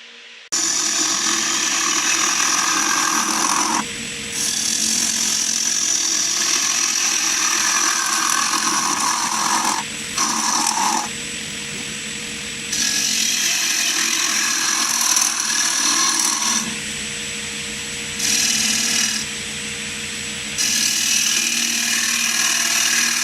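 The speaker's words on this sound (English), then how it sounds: "So we'll give that a bit of a sharpen and we'll start the hollowing process." A woodturning hollowing tool is sharpened on a powered grinder, giving a loud steady grinding whir in several long passes separated by brief pauses.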